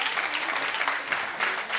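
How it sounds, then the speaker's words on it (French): A stage audience applauds young digital talents at an awards event, a steady dense wash of clapping that holds evenly at moderate loudness throughout, with no voices heard. "Je pense qu'on peut les applaudir très fort."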